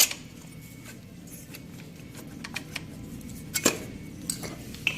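Metallic clinks and taps sound as a motorcycle cylinder is removed in a workshop, with scattered faint clatter and a few sharper knocks over low background noise.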